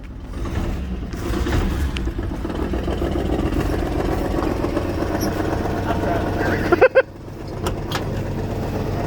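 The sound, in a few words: Dodge D150 truck engine idling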